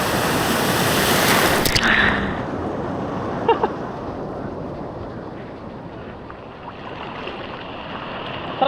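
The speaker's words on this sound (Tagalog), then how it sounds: "Palaki ng palaking alon, no?" Surf at Binduyan Beach in Puerto Princesa, Palawan, rolls in as a continuous broadband wash of breaking waves, loud and close, with wind buffeting the microphone and a surge near the start.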